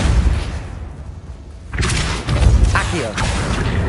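A Repulso spell blast goes off in the Hogwarts Legacy video game: a sudden heavy thump-and-whoosh burst cutting in midway, loud and close, followed by rumbling game effects.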